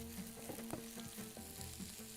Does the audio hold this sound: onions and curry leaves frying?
yes